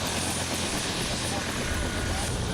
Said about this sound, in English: This type of helicopter you can pick up from miles away